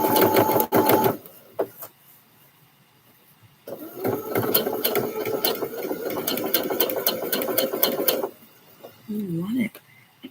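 A sewing machine stitches a male scrub top while skipping stitches, giving a fast rattling run of several seconds between quieter handling noises and short bursts, with a person speaking nearby.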